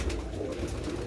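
Pigeons coo softly at feeding time, a low, faint murmur of birds close by against steady background noise.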